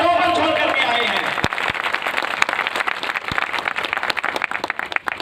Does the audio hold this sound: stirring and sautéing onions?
no